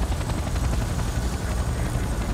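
Helicopter in the video game Command & Conquer Renegade, a steady loud rotor thump and turbine roar filling the scene without a break.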